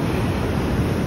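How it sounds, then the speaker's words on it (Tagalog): Strong ocean waves surge onto a beach at Khao Lak, Phang Nga, Thailand, in low season: a steady, loud wash of surf with wind rumbling across the microphone throughout. "Delikado, ayan, lakas ng alon."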